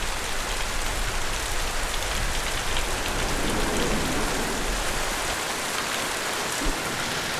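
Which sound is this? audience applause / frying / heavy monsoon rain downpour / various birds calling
heavy monsoon rain downpour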